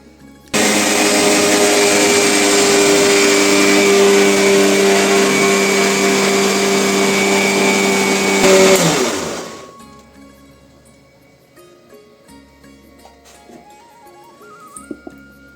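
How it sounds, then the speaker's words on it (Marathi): An electric mixer grinder churns cream with cold water to bring up butter for homemade ghee: a loud, steady motor whine runs for about nine seconds, then winds down and stops, leaving a quiet room with faint clatter. "आता आपल्याला हे थंड पाणी टाकायचं आहे आणि पुन्हा मिक्सरच्या भांड्यामध्ये फिरवून घ्यायचं"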